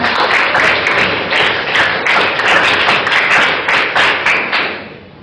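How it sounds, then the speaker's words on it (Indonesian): A classroom of students claps together in a loud, quick burst of hand claps with a few rhythmic surges, fading out at the end. "Ya, tepuk tangan bersama"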